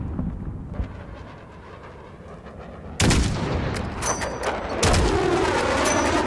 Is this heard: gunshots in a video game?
yes